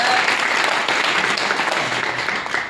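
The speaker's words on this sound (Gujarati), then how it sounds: "એના માટે એના માટે જબરદસ્ત તાળી પાડો" A crowd at a live nomination event gives loud, sustained applause, dense overlapping claps filling the clip evenly before easing slightly at the end.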